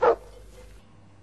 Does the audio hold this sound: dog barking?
yes